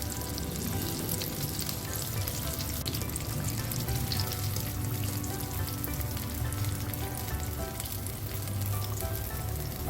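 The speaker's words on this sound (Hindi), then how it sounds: "इस तरह हमारी जितनी भी थ्रेड चिकन थी वो हमारी फ्राई हो गई है" Thread chicken deep-fries in oil for an iftar dish, a loud, unbroken bubbling sizzle that holds steady throughout, close and alone with no voices.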